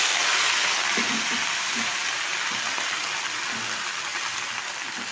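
Washed taro leaves hit hot oil tempered with nigella seeds, giving a dense, loud, even hiss of sizzling that fades slightly over a few seconds, with no talk.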